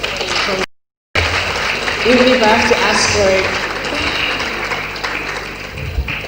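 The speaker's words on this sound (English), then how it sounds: "I think we deserve a round of applause" Conference audience at a midwifery gathering in Nigeria breaks into sustained applause that fills the room for several seconds, briefly cut out near the start, while a speaker's voice carries over the clapping.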